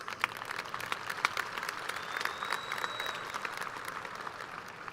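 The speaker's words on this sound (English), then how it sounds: "Let's give a big round of applause for our Board of Trustees." Steady applause from a large crowd at a high school graduation ceremony, dense clapping filling the whole stretch with no talk over it.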